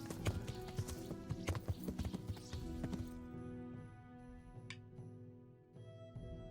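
Horse hooves clip-clop in the medieval role-playing game Kingdom Come: Deliverance, a quick, steady run of close, fairly loud beats over the first three seconds before they fade and game ambience takes over.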